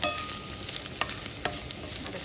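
Coconut slices frying in a pan for a traditional Onam sadya koottu curry, a steady close sizzle with intermittent scraping stirs of a spoon, no voices.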